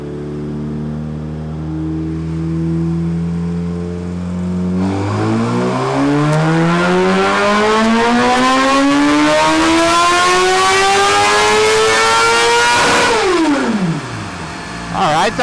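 A 2017 Suzuki GSX-R1000 sport bike on a dyno makes a full pull, its engine note climbing steadily from a low rumble to a loud high-rev scream before dropping off sharply near the end.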